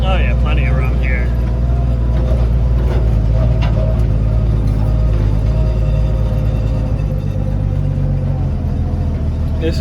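A 1956 Chevrolet 6400 truck pulling in low second gear, its engine droning steadily and loudly up close, with a voice talking briefly near the start.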